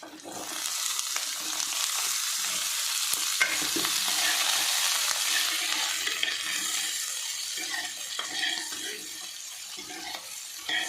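Ridge gourd pieces fry in a pan over softened onions: a continuous mid-level sizzle with occasional stirring scrapes, close by and without speech.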